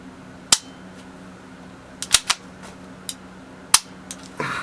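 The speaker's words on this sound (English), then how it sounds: "with this one, the trigger upgrade kit I put in there, you can actually dry fire this" A Ruger Mark IV pistol fitted with an upgraded light trigger is dry fired, producing several sharp, crisp metallic clicks spread irregularly over a few seconds, close to the microphone in a quiet room with a faint steady hum.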